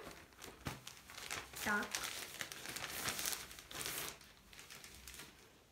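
Crinkling plastic from a SHEIN parcel being opened, a few close rustling bursts that come and go, with a voice saying a brief word.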